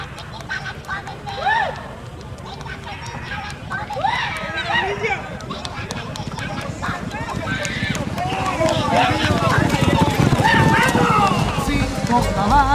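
Racehorses gallop in a match race, a steady rumble of hoofbeats that grows louder and closer, mixed with crowd shouts and other people talking throughout.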